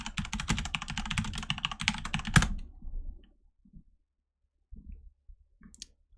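Rapid typing on a computer keyboard fills the first few seconds with dense, close clicking, ending in a heavier key tap, then a few faint scattered sounds in near silence.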